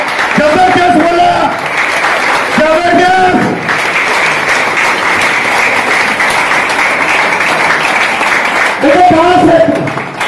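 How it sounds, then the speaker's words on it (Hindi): Audience clapping at a business plan meeting, a continuous loud wash of applause with a voice speaking over it at the start and again near the end. "इनके लिए जोरदार ताली होना चाहिए"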